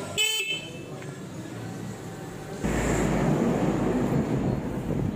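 A motorcycle horn rigged as a prank to sound whenever the brakes are applied gives a short, bright honk at the very start, followed by steady engine and road noise that grows louder partway through.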